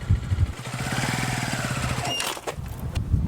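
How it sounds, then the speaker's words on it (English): A Junak Enke 125cc motorcycle engine starts and runs close by with a steady, rapid putter of even pulses, then gives way to clicks and shifting mechanical noise near the end. "Use your right thumb to start the engine and control the throttle with your right hand."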